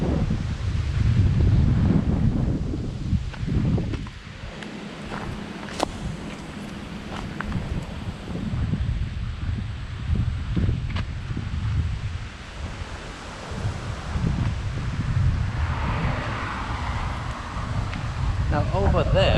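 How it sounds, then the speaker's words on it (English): Strong gusty wind the day after a typhoon in Japan roars and buffets the microphone, rising and falling, with rustling and scattered faint sounds outdoors. "So now you can see why most people are staying at home today. Very, very windy out."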